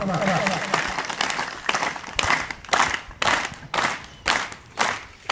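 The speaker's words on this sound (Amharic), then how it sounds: "ጭብጨባ" Audience applause at a ceremony honoring patriotic veterans in Shewa Robit, Ethiopia, with loud clapping in several swelling bursts separated by short lulls, mixed with crowd noise.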